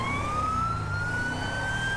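A police car siren from GTA 5 with a Turkish police mod wails steadily, loud and close, its tone slowly rising over rumbling engine and traffic noise.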